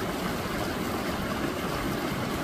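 Water pours steadily through a dam in the high-range hills of Poovaranthode, Kozhikode, a continuous broad rushing flow at moderate distance with no voices.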